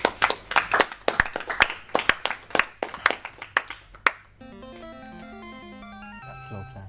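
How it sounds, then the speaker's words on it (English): A run of sharp hand claps at a speedrunning charity marathon, about four seconds of steady, evenly spaced claps, gives way to bright electronic video game music. "That's slow clap."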